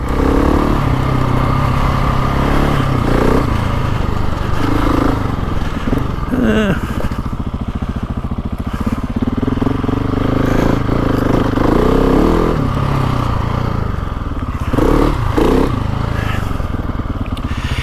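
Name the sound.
GasGas ES 700 motorcycle engine running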